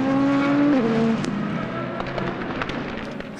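A race car at the 4 Hours of Imola endurance race roars past with a loud engine note that drops as it fades. Sharp pops and crackles follow under a steady circuit rumble.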